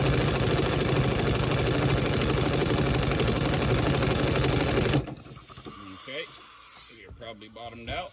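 Loud, steady broadband air hiss from a compressed-air line in a garage working on a Mustang GT suspension, lasting about five seconds, then cutting off abruptly to quieter clanks and handling noise.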